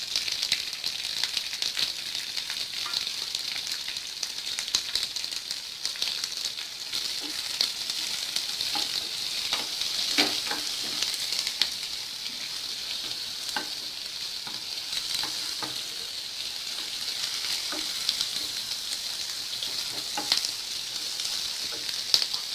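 Sliced large onion sautéing in melted butter for paneer butter masala: a steady, dense hiss and crackle that runs unbroken throughout, with occasional faint stirring scrapes and no talk.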